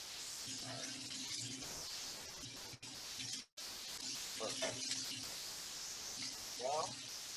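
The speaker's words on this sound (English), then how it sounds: "If you don't hear the sizzle in the pan" Food sizzles softly in a hot pan, a steady crackling hiss running beneath a person talking.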